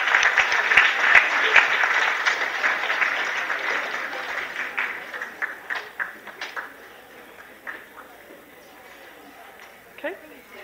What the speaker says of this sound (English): Let's have a round of applause for the volunteer.